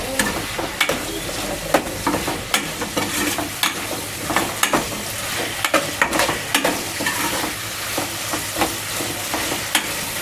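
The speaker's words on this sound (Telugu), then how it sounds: "కరివేపాకు, కొంచెం లైట్గా ఫ్రై అయిపోతుంది." Curry leaves fry lightly in hot oil with a steady crackling sizzle, broken by sharp utensil taps and scrapes of stirring spaced every second or so, close and moderately loud with no voices.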